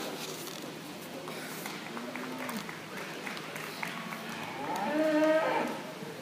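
Cattle moo in an arena during a junior market heifer show. A crowd murmurs and there is light applause, with one clear, loud moo rising near the end over the steady background noise.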